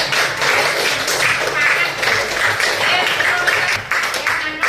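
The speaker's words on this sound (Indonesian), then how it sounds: "Tepuk tangan dong buat Gibran." A classroom of students claps for their classmate Gibran, a steady, busy burst of applause lasting several seconds, close and fairly loud, with voices mixed in.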